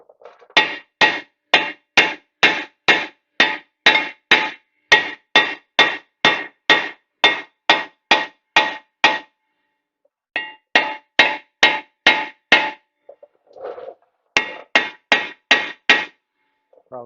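Loud metallic hammer blows on a seized brake disc of a Ford F-150 Raptor ring out in rapid, steady series, pausing briefly between bursts, each strike sharp and clanging.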